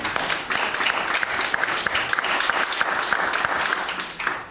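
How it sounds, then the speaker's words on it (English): A church congregation clapping hands during a praise service, a loud, sustained burst of many hands clapping together without pause. "Give the Lord a hand clap."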